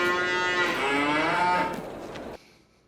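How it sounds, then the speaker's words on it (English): A young cow on an old Polish farm in Farming Simulator 22 lets out a single long, loud moo close by, which fades and then cuts off abruptly. "I guess we'll take a look at the cows"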